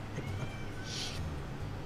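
A house cat meows once, faintly and briefly, over a steady low engine drone from a flight simulator playing in the room.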